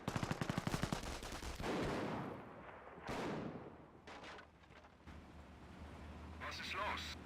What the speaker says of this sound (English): Sniper firing away.